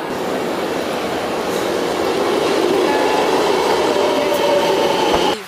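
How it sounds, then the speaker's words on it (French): A Milan metro train rumbles loudly and continuously nearby, wheels clattering on the rails with a faint squeal rising toward the end before the sound cuts off abruptly. "on attend le métro pour arriver là-bas du coup"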